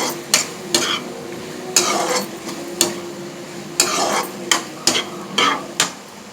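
A spoon scrapes and clanks through an okra and raw prawn curry with turmeric in a cooking pan, in about a dozen close, loud strokes at an uneven rhythm with a faint sizzle underneath.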